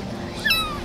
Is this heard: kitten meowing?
yes